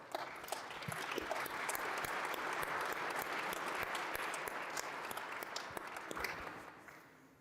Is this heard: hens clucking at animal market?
no